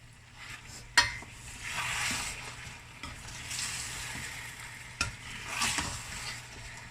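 Beef stew sauce with onion, spices and stock bubbling and simmering in a pot, with a spoon scraping and stirring through it and a couple of sharp clinks against the side.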